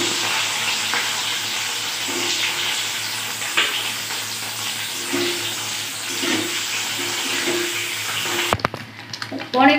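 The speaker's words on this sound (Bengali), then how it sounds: "তেলটা গরম হয়ে গেছে, আমি এবার নুন দিয়ে মাখানো পনির দিয়ে ঘিরে নিচ্ছি।" Salt-rubbed paneer pieces fry in hot mustard oil in a karai, producing a steady, fairly loud sizzle with scattered soft clatters before the sound abruptly shifts near the end.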